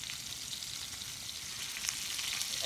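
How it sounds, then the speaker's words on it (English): Scallops searing in a hot pan give a steady, close sizzle with a faint crackle, continuous and alone with no voices. "And a nice sizzle."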